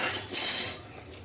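Finely chopped dates drop into hot ghee in a pan, a short metallic clink and scrape of a utensil followed by a brief bright sizzle that fades quickly, close and without voices.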